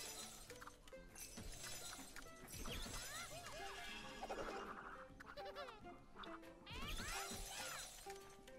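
Glass blocks shatter in the video game Tricky Towers, with repeated crashes and tinkling breaks over busy game music and effects, all at a low level.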